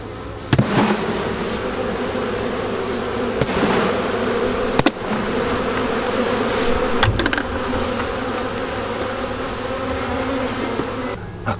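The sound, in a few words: honeybees buzzing around an open hive frame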